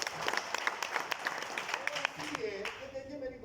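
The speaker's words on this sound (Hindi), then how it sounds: "इसके लिए भी तालियां होनी चाहिए।" A small group claps in a brisk burst for a few seconds, close by, and the clapping gives way to someone talking.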